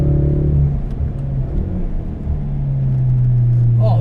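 A Mountune-tuned Ford Focus RS on a race track on Pilot Super Sport tyres, heard from inside as a loud continuous engine drone that dips slightly and then climbs steadily under acceleration.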